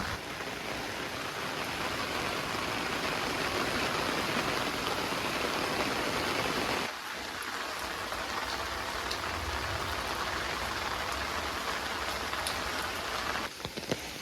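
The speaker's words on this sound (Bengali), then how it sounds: "প্রচুর বৃষ্টি নামছে এই যে বৃষ্টি রাস্তাঘাট ভিজে গেছে" Heavy rain pours onto a road in Bangladesh, a dense, steady hiss of drops on wet pavement that runs continuously from start to finish without talk.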